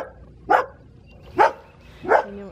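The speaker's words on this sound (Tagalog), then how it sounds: "Yan yung aso ng kapitbahay." A neighbor's dog gives three separate barks spaced about a second apart, moderately loud from a short distance outdoors over a soft background hum.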